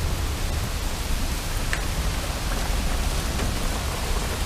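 Heavy rainstorm in Denver with water flooding around trash cans outdoors, a dense continuous hiss of pouring rain with a few scattered droplet ticks, steady and close with no voices.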